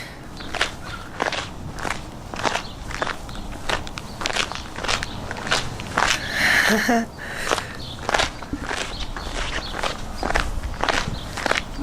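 Steady footsteps on a sticky prepped drag strip surface, each step giving a peeling, crackling sound, with a brief rustle midway; close and fairly loud.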